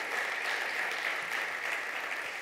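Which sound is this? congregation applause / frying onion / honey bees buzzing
congregation applause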